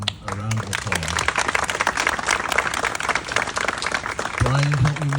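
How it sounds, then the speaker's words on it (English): A crowd at an outdoor trail dedication gives a round of applause, a busy patter of clapping filling the middle stretch, with a voice talking at the start and again as it ends. "So please give both of those gentlemen a round of applause."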